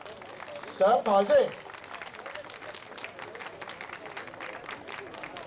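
Scattered applause from a crowd greeting a qilin dance team at a Hakka kung fu association's founding celebration, a steady faint patter running through, with a brief spoken phrase over it near the start.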